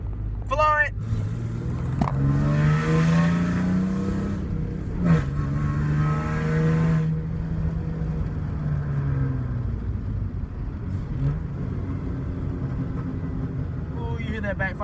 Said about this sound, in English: Ooh, you hear that backfire?